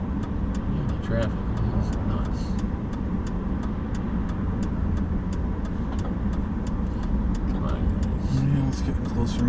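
Road traffic passes in Minot, North Dakota, in mid-May as a steady, loud rush of car engines and tires with no let-up, with voices faintly under it.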